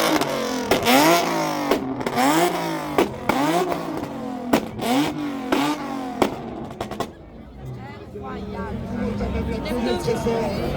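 An Audi revving hard at a car show event, with sharp repeated throttle blips and engine roars for several seconds, then crowd noise and people talking as the revving stops.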